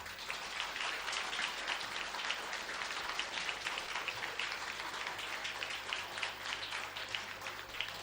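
Steady applause from a studio audience at a 1983 Belgian RTBF public television broadcast, a dense continuous patter of clapping held at even loudness throughout, with no talking over it.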